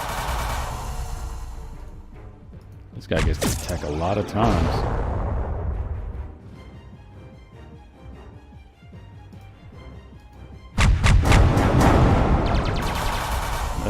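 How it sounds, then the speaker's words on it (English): Bursts of gunfire and heavy explosive blasts from the space strategy game Halcyon 6: Lightspeed Edition, loud in two clusters separated by quieter rumbling, with someone talking over the action. "we're just gonna whittle him down with regular gunfire"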